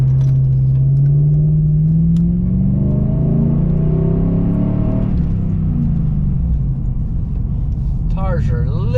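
A Chevy Silverado truck on oversized tires, attempting a burnout: a loud, close engine rumble climbs steadily in pitch as it revs, then drops back to a rough idle, with a brief squeal near the end.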